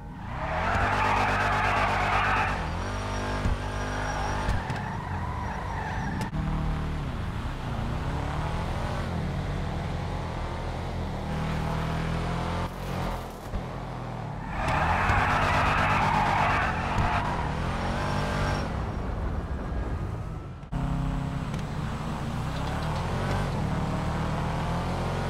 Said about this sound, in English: Honda ran like a beast